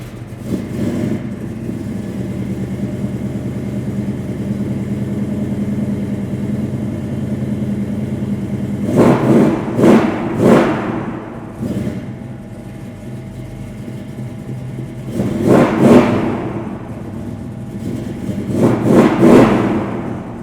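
V8 engine of a 1963 Chevrolet Nova custom restomod idling with a low steady rumble, then blipped in three short bursts of sharp revving, loud and close.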